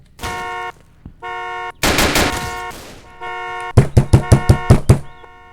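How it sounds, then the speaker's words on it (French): A shootout in the Roblox Emergency Hamburg game mixes sustained horn-like electronic tones with a noisy blast, then a quick rhythmic string of about eight loud gunshots close by. "Ok les gars, fusillade."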